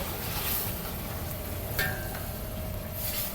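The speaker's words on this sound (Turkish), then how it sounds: "Eti kavurmak 15 dakika sürdü. Karıştırıyorum." Beef browning in a pot for Turkish kuru fasulye (white bean stew), a steady broadband sizzle with a few soft scrapes of a ladle stirring through it, close and even, no talking.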